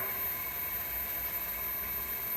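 A wood lathe spins a small wooden box while it is being sanded, giving a steady, even motor drone with a faint high whine and no talking.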